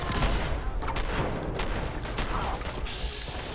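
Dense, continuous gunfire in Fallout 4 during a fight against raiders throwing grenades, a shotgun among the weapons, loud and sustained with overlapping blasts throughout and no clear gaps.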